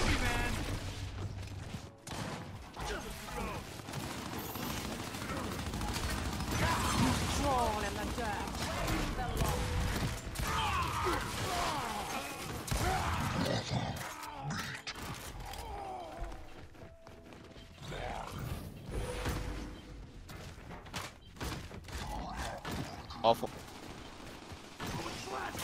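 Dense gunfire in a Gears 5 ranked Control match: sustained bursts of automatic rifle fire and sharp shots layered over each other, loud and continuous throughout, with in-game noise and mechanical clatter mixed in.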